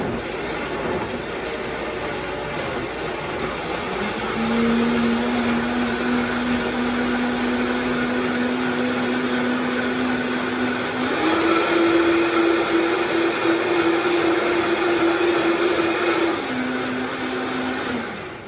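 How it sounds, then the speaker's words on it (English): A blender runs steadily on a low setting, a constant motor whine that steps up in pitch partway through, then drops slightly before the end. "On low setting, always good to start with your blender low so that nothing splatters"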